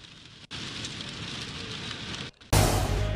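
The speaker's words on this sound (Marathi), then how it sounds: "आज मुंबईसह उपनगरातही मान्सूनपूर्व पावसानं जोरदार हजेरी लावली" Heavy pre-monsoon rain pours over Mumbai's suburbs, a dense steady hiss of drops on surfaces, briefly dipping twice before a louder, closer burst of downpour.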